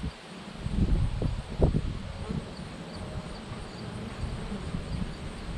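Honeybees hum around a homestead hive that is struggling to raise a new queen, a faint continuous drone with some rustling and a few closer brushes near the start, no talking.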